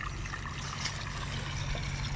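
Borewell water runs steadily over rice soaking in a vessel, making a continuous close gushing and trickling wash at an even level.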